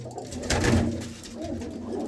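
A breeder's pet pigeon coos nearby, a low, soft, throaty call that swells and fades over a quiet background, with no talking.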